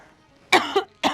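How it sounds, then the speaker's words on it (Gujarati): A person gives two sharp, close coughs in quick succession against a quiet background, with a brief pause between them. "હા ખાંસી થઈ ગઈ, તકલીફ આવી ગઈ"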